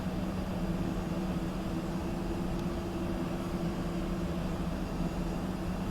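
An A-10C jet taxiing in the flight simulator game DCS World gives a steady, loud engine drone with a low hum and a broad rushing whine, unchanging throughout with no voices.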